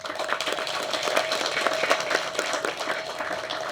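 A film-event audience claps for producer Prabhakaran, a moderate, steady round of hand clapping with a faint tonal hum running underneath.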